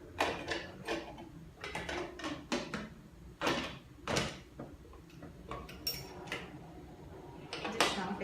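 A pressure cooker lid is shut over beef simmering in sauce for a pot pie, giving a string of sharp metallic clicks and clanks against steady kitchen background noise.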